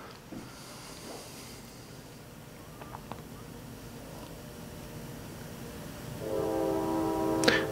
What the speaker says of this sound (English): You got a train?